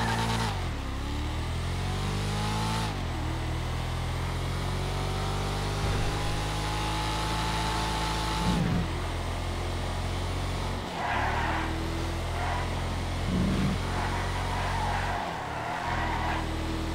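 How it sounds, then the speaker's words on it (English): Valkyrie sports car engine on a video game test drive, loud and continuous with rising revs, gear-change dips and sliding tire noise throughout, no talking. "This is the Valkyrie. Let's test drive this thing out."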